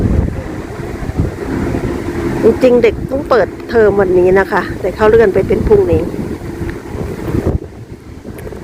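Gusty wind buffets the microphone at a crowded outdoor street gathering in a mining town, a steady rumbling roar with someone talking over it before it drops away near the end.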